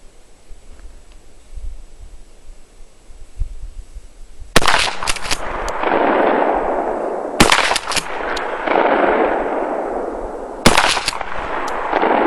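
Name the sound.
shotgun fire from a Mossberg 590 with Blackhawk stock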